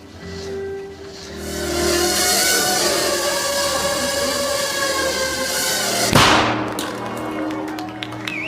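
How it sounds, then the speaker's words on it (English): A small 3-gram shaped explosive charge goes off as a single sharp bang late on, following a sustained noisy hum. "That little bang is enough to penetrate the skull and destroy the contents."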